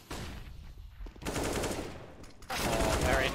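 Automatic AK rifle fire in Counter-Strike, broken bursts of sharp shots crackling across a busy match on the Ancient map, with loud sustained volleys toward the end.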